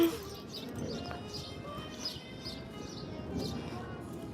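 Pigeon or dove cooing at the boardwalk of the Disney World Dolphin Resort in Florida: soft, repeated coos at moderate distance over steady outdoor ambience with a few chirps.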